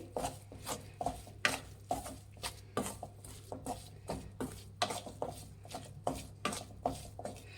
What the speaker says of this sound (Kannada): ಆಲೂಗಡ್ಡೆ ಮ್ಯಾಶ್ ಮಾಡಬೇಕು ಗಂಟು ಗಂಟು ಇರಬಾರ್ದು ಚೆನ್ನಾಗಿ ಮ್ಯಾಶ್ ಮಾಡಿರಬೇಕು